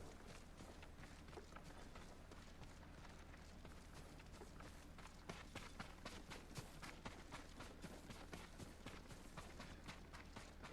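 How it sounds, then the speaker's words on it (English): Horse hooves in the video game Ghost of Tsushima, a steady run of quick clip-clop beats over a continuous game soundscape, moderately loud throughout with no talk. "There's her horse."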